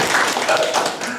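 Dense, steady clapping from a lecture audience fills the short stretch, broadband and loud with no pauses, as listeners applaud a fellow attendee.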